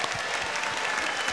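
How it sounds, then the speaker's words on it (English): An audience at a school district convocation claps in a steady round of applause, dense and continuous throughout. "Can we have a round of applause for our technology department?"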